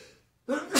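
A single close, loud sneeze bursts out after a quiet pause, a sharp breathy blast that stays strong to the end, with a brief spoken exclamation nearby.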